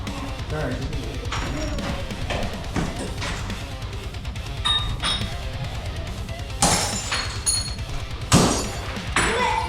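In a rage room, glass bottles are smashed with a hammer: sharp cracks, clinks and bursts of shattering glass come in irregular bursts, the loudest near the end, mixed with thuds and people talking nearby.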